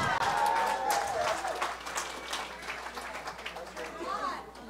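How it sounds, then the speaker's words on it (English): An audience at a 7k Metals members event gives a round of applause for Tom: dense, sustained clapping with crowd chatter and a voice talking over it. "give one more round of applause for Tom, please"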